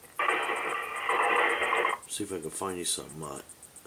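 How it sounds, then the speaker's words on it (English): A RadioShack DX-394 receiver tuned to the 40-meter band plays a garbled single-sideband signal for about two seconds. A person then talks over faint receiver noise. "Sideband signals or something on 40 meter here"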